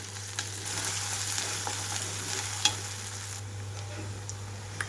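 Ginger garlic paste frying in hot oil in a pan, a steady close sizzle and crackle with soft stirring scrapes and a couple of faint utensil taps, no talking.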